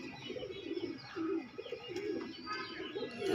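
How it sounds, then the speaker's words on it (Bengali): Pigeons of a fancy breeder's loft coo softly in repeated low, throaty phrases close by, with a few faint chirps, no talk. "আন্দ্রার লাইনে প্রচুর পায়রা আছে"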